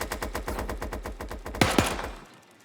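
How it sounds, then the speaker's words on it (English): Blue dual pistols in the video game Super Animal Royale fire a rapid, steady burst of about fifteen sharp shots, then two louder cracks near the end and a brief tail, with no talking. "I'm gonna use blue dual pistols just to be a fair comparison"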